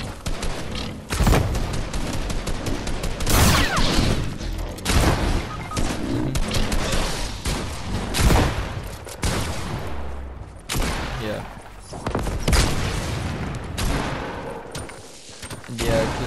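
Rocket launcher fire and blasts in a Fortnite match, a loud run of booming explosions and gunfire-like bursts spread across the whole stretch, with chatter from several players mixed in.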